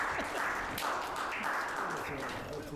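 Applause fills a hall at the Fonó25 award gala, a steady wash of clapping with a voice talking over it.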